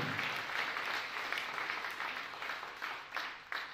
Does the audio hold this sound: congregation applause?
yes